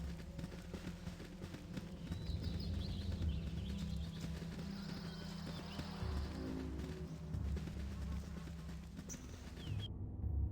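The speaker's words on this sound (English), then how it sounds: "Horses!" Horses' hooves clip-clop in Baldur's Gate: Enhanced Edition, a quiet steady patter of hoofbeats over a low rumbling game ambience with faint bird calls, continuing for about ten seconds.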